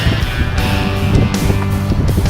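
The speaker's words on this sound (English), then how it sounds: "it's pretty windy" Strong, gusty wind buffeting the microphone with a loud, rumbling roar that surges and dips continuously throughout.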